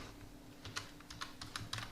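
Keys clatter on a computer keyboard in a quick, uneven run of close, light taps over a faint low hum, with no voices.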